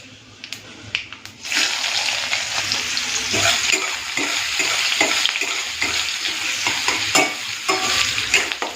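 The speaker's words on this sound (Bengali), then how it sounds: "পেঁয়াজটাকে এক মিনিটের জন্য একটুখানি ভেজে নিই" Chopped onion frying in a pan with panch phoron and dried chilli, a steady loud sizzle after a quiet start, with scraping stirs and clinks throughout.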